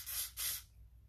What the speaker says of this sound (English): I'm gonna take this spray and I'm going to put it